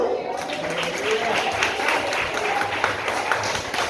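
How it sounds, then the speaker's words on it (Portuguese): Church congregation in rural Bahia applauding during a pastor's sermon, a continuous wash of clapping from a crowded room with voices mixed in throughout. "Você pode aplaudir o Senhor?"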